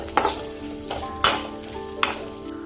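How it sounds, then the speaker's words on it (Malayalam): Prawns frying in coconut oil in a pan give a steady close sizzle, broken by three sharp bursts of spattering and stirring about a second apart, with no voices. "ചെമ്മീൻ ഒന്ന് ഫ്രൈ ആക്കി എടുക്കാനുണ്ട്"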